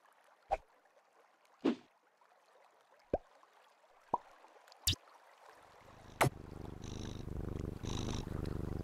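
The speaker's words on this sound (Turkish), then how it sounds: "kedim hırlıyor" A cartoon cat purrs, a steady low rumbling purr rising in the last few seconds after a series of sharp separate splashes and clicks, all without speech.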